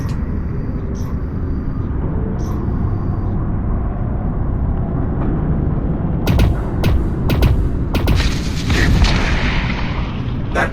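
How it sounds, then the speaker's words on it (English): In the video game Lone Echo 2, an energy cell hit by a pulsar shot detonates as a loud burst of crackling blasts over a constant deep engine-like rumble. "a direct hit to the cell from your pulsar would likely cause it to detonate"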